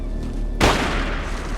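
One sharp, loud gunshot cracks out partway through a film scene set near a forest cabin, then trails off into a fading echo over quiet background.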